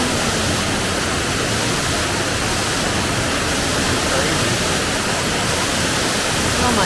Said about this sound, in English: There's a waterfall right there in the side.